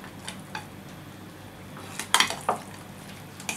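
Pieces of mutton dropped into a metal cooking pot for biryani, giving a few sharp clanks and soft thuds near the end over a low kitchen background.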